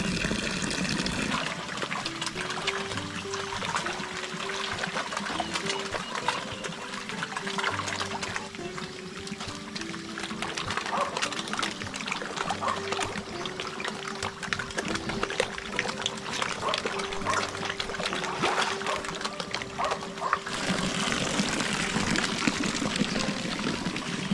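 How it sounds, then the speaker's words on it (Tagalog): Strong water gushes steadily from a water supply line near a tilapia pond, a continuous loud pouring and splashing that runs unbroken for the whole stretch. "malakas na yung source sa ating tubig"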